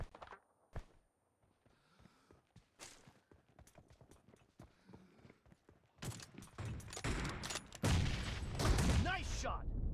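Video game gunfire crackles in sparse sharp bursts before a heavier volley of shots fills the background near the end, with a voice speaking briefly.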